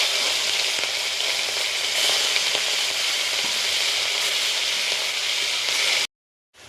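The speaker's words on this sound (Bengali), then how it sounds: "চিংড়ি মাছগুলোকে এবার ভেজে নেব।" Prawns frying in hot mustard oil, a steady, dense sizzle close by with faint stirring clicks, continuous for about six seconds before cutting to silence.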